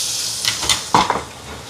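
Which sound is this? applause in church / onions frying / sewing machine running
onions frying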